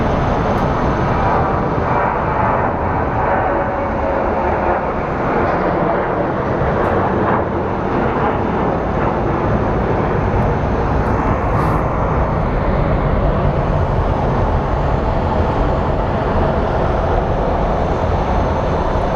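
An American Airlines jet bound for Denver departs Phoenix Sky Harbor, its engines a loud, continuous broadband roar that holds steady and fills the whole stretch with no talking.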